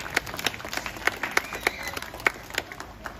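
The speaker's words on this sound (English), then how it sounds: "how about a big round of applause for Ashikin with Midnight" Audience clapping at an evening animal show at the Night Safari in Singapore, a short burst of scattered, moderately distant applause with uneven individual claps.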